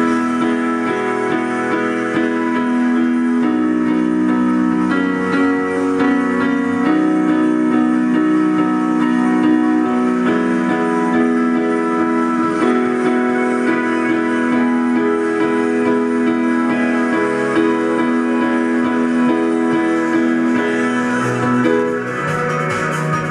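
Piano plays the intro of Coldplay's "Don't Let It Break Your Heart" alongside the recorded song, a steady dense texture of sustained chords and melody at constant loudness with no talking.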